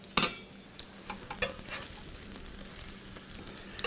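Sweet potato latkes, made with baking powder, sizzle steadily in a hot pan, a close, even crackling hiss broken by a few sharp clicks and scrapes near the start.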